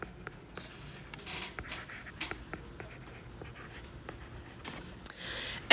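Pen or pencil scratching out math working by hand on paper, a quiet close run of short strokes and taps with small pauses, alone without talk.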